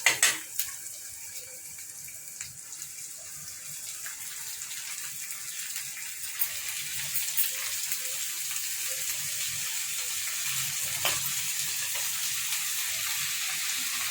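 Gongura leaves go into hot oil in a pan for a Telangana curry, a sharp initial crackle settling into a steady, close, watery hiss of frying that continues throughout with no speech.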